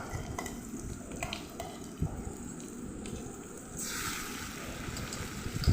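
Onions frying with ginger-garlic paste for a pork dish, a soft continuous sizzle with scattered stirring scrapes and clatter, nearby and fairly quiet, with no speech.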